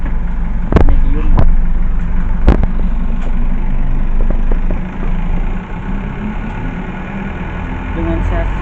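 A medium city bus on an Isuzu NQR chassis runs with a steady low engine drone, heard from inside the cabin at a halte in Bandung, with a few sharp knocks and clunks early on.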